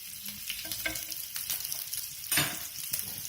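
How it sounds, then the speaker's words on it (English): Steady crackling sizzle of bacon frying in a pan, with small pops and a brief louder burst of spitting grease midway. "Bacon frying."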